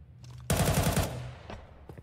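A loud, rapid burst of automatic gunfire in a Counter-Strike pro match lasts about a second, followed by a few fainter isolated shots.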